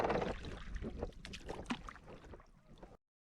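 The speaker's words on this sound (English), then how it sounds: "we are now rowing the dinghy, searching for a place to come ashore" A dinghy being rowed close to shore, with oars splashing and water trickling and gurgling in a loose rhythm before the sound stops abruptly.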